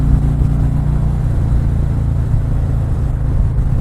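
A 2018 Harley-Davidson Ultra Limited with a 107 V-twin engine rumbling under throttle: a deep, steady, throbbing drone sustained throughout, loud and close, with no speech.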